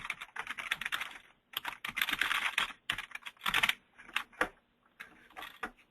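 Keys clatter on a computer keyboard as an email address is entered, with quick bursts of close, crisp clicks broken by short pauses.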